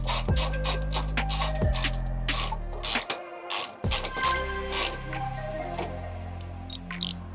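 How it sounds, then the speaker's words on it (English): A 10mm ratchet hand-tightens splash shield bolts on a Honda FL5 Civic Type R, making repeated close, crisp clicking runs of the pawl, with short pauses and a few scrapes between bursts. "just take your 10mm and just go back and hand tighten all these"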